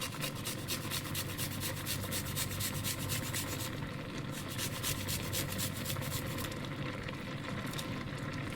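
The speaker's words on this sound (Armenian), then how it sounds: "Այս մի սխտորն էլ քերեմ" Garlic clove rubbed against a grater for a mushroom sauce, a steady close scraping rasp running continuously without pause, with a faint background hum and no talk.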